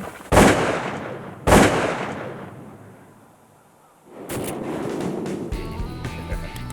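Two loud shotgun blasts from a duck hunt in Louisiana ring out about a second apart and decay across open water, followed after a pause by rougher outdoor noise and a boat motor.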